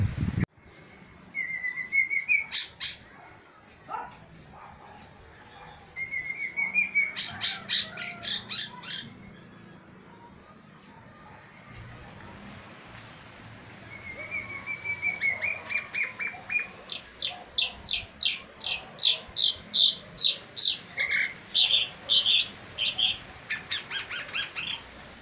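A bird sings in bursts of rapid chirps and whistles, some runs building into loud, rhythmic trills, with short pauses between phrases.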